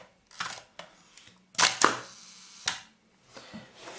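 Hasselblad Planar C 80mm f/2.8 T* lens with a sticky shutter, fired at a 1-second exposure wide open: a series of sharp mechanical clicks and snaps, close and fairly loud, with quiet gaps between them.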